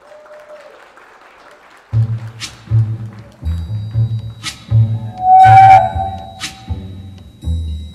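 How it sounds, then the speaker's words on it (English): Applause breaks out at a quinceañera party ahead of the first waltz, a round of clapping mixed under loud music with a steady, thumping bass beat. "Let's give a round of applause for Philip Virgin."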